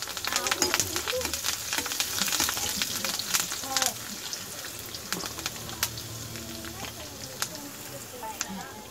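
Curry leaves hit hot oil in a pan alongside chopped ginger, giving a loud, steady crackling sizzle with sharp pops and spatters throughout, a cook talking over it.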